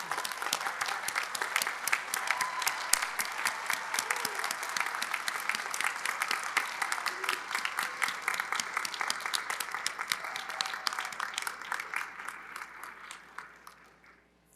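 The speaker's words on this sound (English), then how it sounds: "I'm going to ask all the families to now rise so we can applaud you on your graduation." Families rising to applaud graduates at a 2023 Hamline University undergraduate commencement ceremony, a sustained dense wash of clapping from a large crowd in a hall, steady throughout and fading out at the end.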